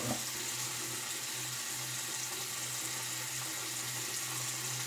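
Tap water running steadily into a sink while rinsing during a wet shave, a constant close hiss with a low hum beneath and small splashes, no talk.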